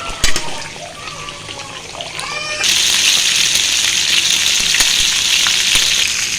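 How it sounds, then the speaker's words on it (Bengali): Beef pieces hit hot oil partway through, and a loud, dense, steady sizzle takes over after a quieter stretch with a few faint clinks and a brief high, wavering cry. "মাংসটা ভাজা করার জন্য প্রথমে আমি তেল দিয়ে দিয়েছি"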